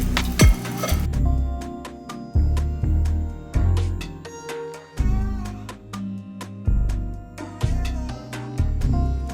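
Beef short ribs go into a pot one after another, giving a series of close, sharp clinks and clunks with brief sizzling between, ending as the pot is covered.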